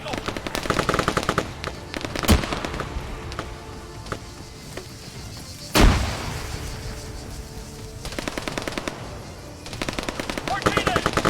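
Machine-gun fire in the Arma 3 military game crackles in rapid bursts, with two heavy booming shots standing out and a quieter lull in the middle before the fire picks up again.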